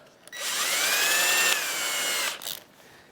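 A power drill whines steadily at high speed for a couple of seconds, loud and close, then winds down with a brief final burst.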